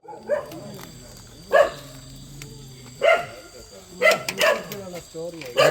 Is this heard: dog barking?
yes